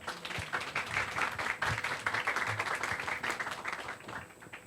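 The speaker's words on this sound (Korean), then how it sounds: "여러분 큰 박수로 맞이해 주시기 바랍니다" Applause from an audience at an ESG management forum welcoming the opening speaker, a steady spread of many hands clapping at moderate distance, fairly quiet overall.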